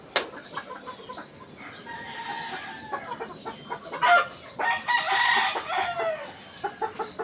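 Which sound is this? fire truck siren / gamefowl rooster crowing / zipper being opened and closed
gamefowl rooster crowing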